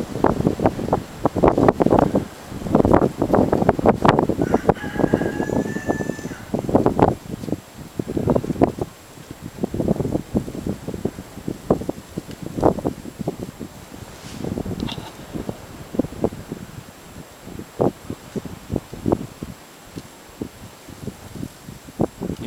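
Strong gusty wind in open countryside buffets the microphone in loud irregular bursts with brief lulls, rustling and roaring throughout the clip, with no voices heard.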